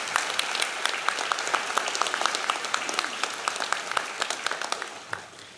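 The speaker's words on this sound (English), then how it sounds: "Please join me in a round of applause for all they do for our campus." Sustained audience applause at a 2022 commencement ceremony, a dense steady patter of many hands clapping that fills the space and tapers slightly near the end.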